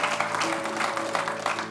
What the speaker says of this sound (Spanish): ¿Cuántos pueden darle un aplauso fuerte a Cristo?